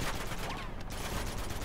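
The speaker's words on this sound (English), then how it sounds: "Here, I just shoot that old computer monitor." Gunfire in Uncharted is aimed at an old computer monitor, heard as rapid, dense shots in a continuous loud burst that runs the full length, close and without speech.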